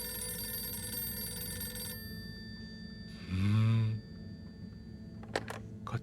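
A telephone rings in Harold Halibut, a handmade stop-motion video game, with one short, fairly loud ring burst midway through, set against a steady, quiet background hum.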